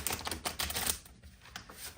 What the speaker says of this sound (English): I even forgot to shuffle your advice card